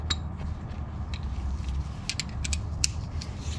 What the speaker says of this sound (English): So now we're gonna put the drain plug back on.